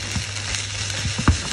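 Onion and peppers fry in a pan with a steady, close sizzling hiss and a few soft stirring bumps near the end.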